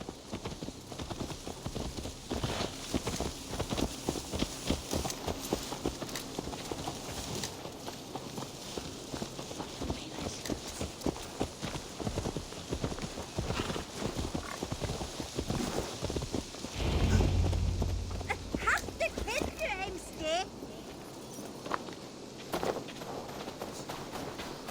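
Hooves clip-clop in a steady walking rhythm as a horse moves along in Assassin's Creed Valhalla, close and continuous, with a brief low thud partway through and faint ambient game sound underneath.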